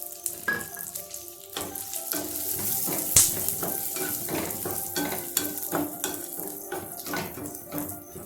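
Pumpkin and melon seeds fry in a pan with a steady sizzle and crackle, while a spoon stirs and scrapes through them in repeated close strokes.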